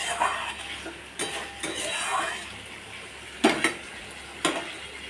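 Boiled potatoes with chilli powder and cumin stirred and sautéed in a pan for a pomfret fish curry, soft sizzling under repeated metal scrapes and clinks of a spoon against the pan, close by.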